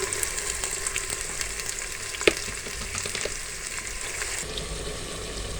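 Onions sizzle and fry in about one and a half cups of hot oil in a pot for beef biryani, a steady close crackling hiss with a stirring clatter partway through, no voices.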